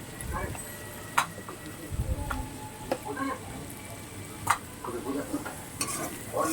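Cumin powder, turmeric and spices fry in a pan while a utensil stirs and scrapes in repeated short strokes, with a soft sizzle underneath and a few sharper clinks against the pan.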